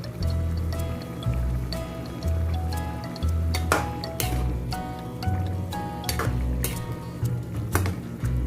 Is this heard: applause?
no